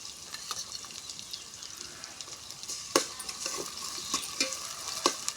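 Onions sautéing in a pan for a mango and drumstick curry, a steady soft sizzle with scattered stirring scrapes and clicks, close and fairly quiet, no voices.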